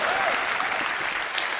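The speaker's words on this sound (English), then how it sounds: "if you guys could just clap your hands a little bit more." Steady handclapping from a small group indoors, continuous and fairly close throughout, with no pauses or voices standing out.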